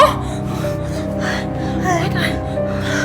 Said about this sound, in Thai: หายใจไม่ออกอะหนูหายใจไม่ออก